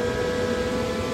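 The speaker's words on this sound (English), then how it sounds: "You can hear that the fan is on right now." Steady, droning whir of a 3D printer's cooling fan, on a Creality K1 Max, running continuously with a faint tonal hum.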